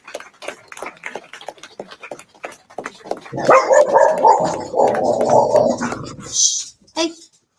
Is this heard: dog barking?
yes